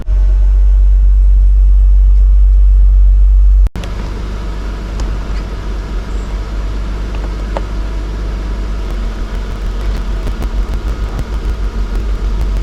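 A 4x4 camper van drives along with its convertible roof open, a steady low engine rumble and broad wind roar continuing throughout after a louder burst of wind noise at the start, with no talking.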